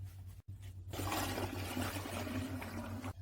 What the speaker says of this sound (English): we can go ahead and pour it into the fermentation tank